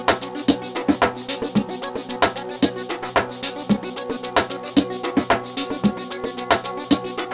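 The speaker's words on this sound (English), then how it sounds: "I have the piano bell, which sounds like this." A bell-like piano bell synth in an amapiano style, made in FL Studio Mobile, plays a quick, steady melody of plucked, chiming notes with a rhythmic pulse, bright and prominent with nothing else.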